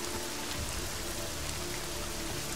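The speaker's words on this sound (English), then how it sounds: "This rain situation, oh yeah, look at it." Rain falls in the video game Deus Ex: Mankind Divided as a dense, even hiss of drops pattering on surfaces. The sound stays steady and moderately quiet throughout, with no voices over it.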